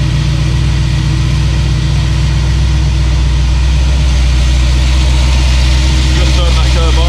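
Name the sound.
1971 Ford Ranchero 302 Windsor engine idling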